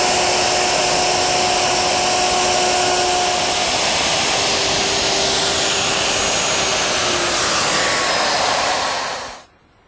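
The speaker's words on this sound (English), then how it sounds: "I've set up my router with a 1/4 inch round nose bit and set the fence so that I'm right at the center of the bit 1 inch away." A router fitted with a 1/4 inch round nose bit runs against a fence while cutting wood, a loud, continuous high whine held for nearly ten seconds before it cuts off abruptly.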